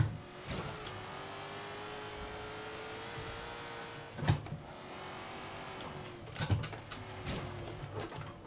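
A Ford Falcon GT F 351 in Forza Horizon 3 drones steadily at moderate volume, its engine note holding and shifting slightly, broken by a few brief louder knocks and thumps from the car.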